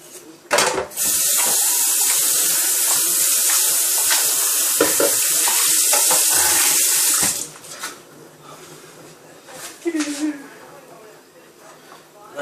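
Hot water pours into a cup for coffee in a steady, fairly loud rush lasting about six seconds, then stops abruptly, followed by quieter handling sounds and a voice talking.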